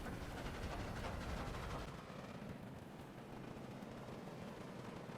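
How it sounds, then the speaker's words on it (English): A train in the video game Dead Rails rolls along with a steady rumbling, rattling roar that starts loud and eases slightly to a constant drone. "our crooked friend got the train moving again"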